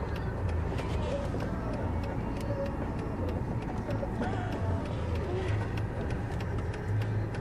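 Cars and other vehicles drive past steadily on a road beside a Wrocław intersection, a continuous broadband rumble with no clear single pass-by, heard from inside a learner-driver car.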